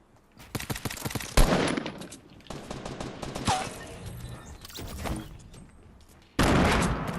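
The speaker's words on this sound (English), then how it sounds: "Who's shooting?" Gunfire in a Fortnite Battle Royale match comes in rapid automatic bursts and sharp repeated shots, with gaps between the volleys and a loud burst at the end. There is no talking.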